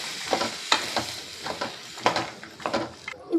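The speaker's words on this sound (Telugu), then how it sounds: "పొటాటో ఇంకా పచ్చి బఠానీ ఇప్పుడు బాగా కలుపుకోవాలి." A spoon stirs potatoes and green peas through a fried masala curry in a pan, making close, uneven scraping strokes and knocks roughly every half second over a faint sizzle.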